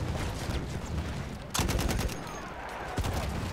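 Gunfire at a tank in the Battlefield 1 multiplayer match on Monte Grappa, with steady battle noise broken by two loud bursts of shots partway through.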